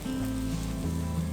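Sauce for vegan gluten-free crepes simmering in a pan, a soft, steady bubbling sizzle heard close up over a brief stretch, with low tonal hum beneath.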